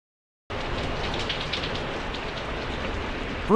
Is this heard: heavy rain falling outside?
yes